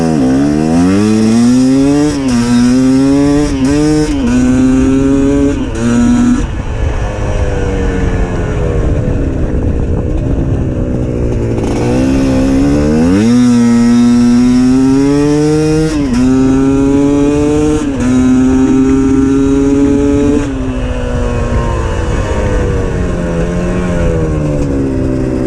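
A GPX TSE 250R, a low-tuned trail-style 250 motorcycle, revs hard through second gear, its loud engine note climbing repeatedly in pitch with brief dips between pulls, close and continuous with no talk.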